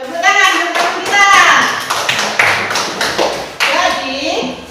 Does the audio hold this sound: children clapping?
yes